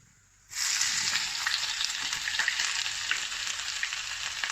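Chopped ginger hits hot oil in a pan on medium heat and breaks into a loud, continuous sizzle after a brief quiet moment, holding steady with crackling pops.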